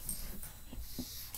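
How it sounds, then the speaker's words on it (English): A dog lets out a brief, fairly faint snort and whimper from close by, with short breathy sounds and no talking. "excuse the dog."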